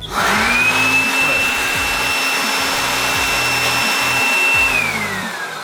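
A small cordless battery vacuum whines loudly, its high steady tone rising as it starts, with fluttering suction as it pulls in work gloves, then winding down.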